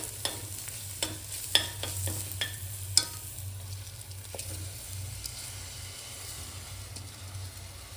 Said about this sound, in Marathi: मसाला छान परतवून झाल्यावरती त्याच्यात आपले तांदूळ टाकून द्यायचे